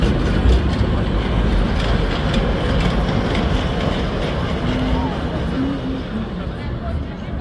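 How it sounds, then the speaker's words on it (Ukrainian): A tram rumbles past on rails on a street in Lviv with a steady low roar, faint metallic squeals and clatter; street noise surrounds it. "І з цієї сторони трамвай."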